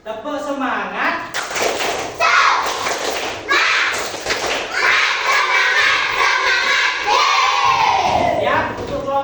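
A classroom of Indonesian primary schoolchildren performs a rhythmic group clapping cheer, loud shouted chanting from many young voices mixed with bursts of claps and thumps, close and energetic.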